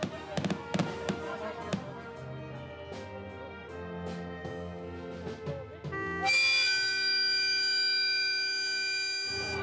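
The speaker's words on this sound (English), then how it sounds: "Before the train pulls away from the platform, fireworks rise up into the sky." Fireworks burst in several sharp cracks and pops at a railway platform as a train prepares to depart on the JR Rumoi main line's final run, followed by a long sustained tone toward the end.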